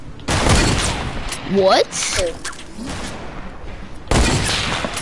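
Gunfire in an online shooter video game comes as rapid bursts and sharp shots, loud and close, mixed with a player's excited voice talking over the action.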